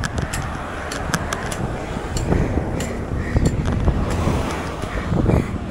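Strong wind gusts roar steadily across the microphone outdoors on a steep 10% gradient, a loud buffeting rush with no voices.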